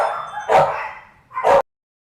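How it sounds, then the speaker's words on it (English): Dogs bark indoors near the microphone, giving two loud separate barks about a second apart, with a brief trailing sound between them and no talking. "Oh God, dogs are gonna bark."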